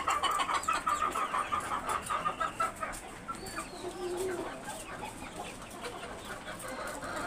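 Hens on an urban poultry farm give a rapid run of clucks close by at the start, then fade into a quieter background with a brief squawk.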